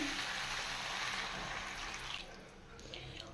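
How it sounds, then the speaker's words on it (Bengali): Water poured into a pan of cauliflower masala curry, a continuous close hiss of liquid that eases off near the end. "এবারে জল দিয়ে দিচ্ছি"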